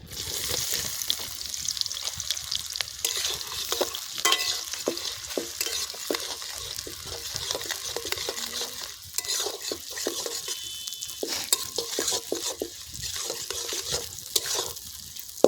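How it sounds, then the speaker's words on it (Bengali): Onion and green chili fry together in a pan, giving a continuous close sizzle layered with steady scraping and clinking as a spatula stirs throughout. "এবারে আমরা পেঁয়াজ আর কাঁচা লঙ্কা একসাথে দিয়ে দেবো"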